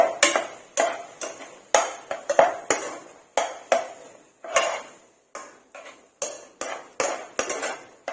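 A spoon mixes tomato pickle ingredients with salt in a metal vessel, repeated sharp clinks and scrapes in an uneven rhythm, loud and close with quiet gaps between strokes.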